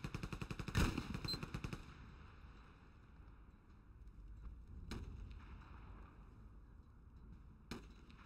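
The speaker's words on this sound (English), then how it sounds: "Okay, shoot now." Automatic gunfire in the online shooter Battlefield Play4Free: a loud burst of rapid shots up front, then two isolated sharp cracks later over a low rumbling game background.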